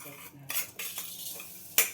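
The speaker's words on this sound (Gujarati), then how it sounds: "તપેલી હજી ગરમ છે ને તાજામાં ફેરવી નાખો" Close metallic scraping of a spatula stirring carom and fennel seeds roasting in a hot pan, a few distinct strokes with light sizzling, no talking.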